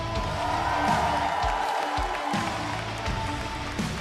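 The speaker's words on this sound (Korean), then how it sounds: "승리의 감격에 취한 우리 강민 선수에게 큰 박수 부탁드리겠습니다" Audience applause and cheering at a StarCraft league final in Korea, a steady dense wash of clapping from a large crowd filling the whole stretch, with faint voices underneath.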